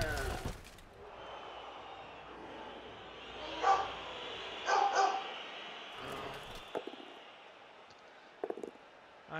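A German Shepherd–Rottweiler dog barks in a few sharp, fairly distant bursts at a quiet street end, separated by stretches of low background hiss.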